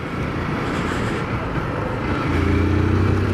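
A Honda CG motorcycle accelerating at full throttle, its engine a loud, steady roar close by that swells and grows heavier near the end, with no talking.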